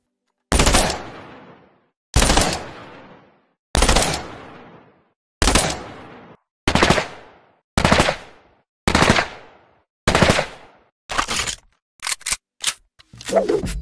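Short bursts of rapid automatic submachine gun fire in Fortnite, about a dozen separate volleys with pauses between, loud and close, ending in quicker clipped bursts; no voices.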